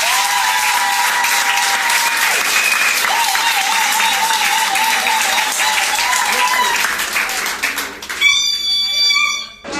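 Wedding guests at a civil marriage ceremony applaud the mayor with steady, loud clapping throughout, ending in a brief cheer and a few sustained tones near the close.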